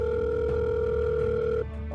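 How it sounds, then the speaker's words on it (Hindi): A phone on speakerphone gives a steady electronic ringback tone, loud and continuous, then stops abruptly near the end, leaving a low background hum. "इतना कहते ही अर्चना ने अपना फोन उठाया और जीतू को कॉल लगाकर फोन स्पीकर पर डाल दिया।"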